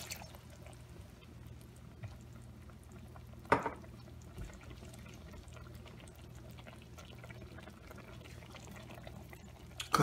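Lemon juice pours into a simmering shrimp scampi sauce of butter, garlic and lemon zest, a soft liquid trickle over a steady low bubbling hiss, with a brief louder clink or splash midway; no talking.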